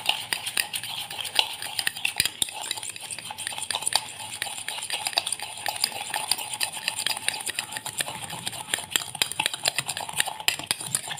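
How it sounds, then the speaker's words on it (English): A spoon whisks dalgona coffee by hand in a cup without a beater, giving a fast, steady stream of close scraping clinks that runs the whole time with no talking. "Now we'll start mixing it."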